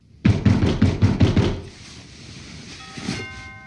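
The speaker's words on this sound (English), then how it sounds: "But the next morning, there's a knock at the door." A rapid burst of about six loud knocks on a door in the morning, close and sharp, followed by a quieter hissing, ringing background with no one speaking.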